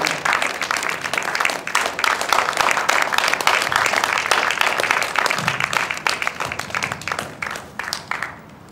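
A conference audience claps to welcome a speaker onto the stage: a dense, steady applause with scattered sharp individual claps that holds for several seconds, then gradually thins and fades near the end.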